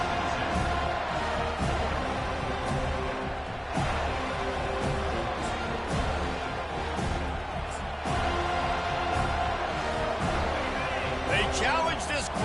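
A stadium crowd in the Madden football game roars steadily at the kickoff, a dense, constant wall of cheering with brief swells, under a play-by-play commentator's voice.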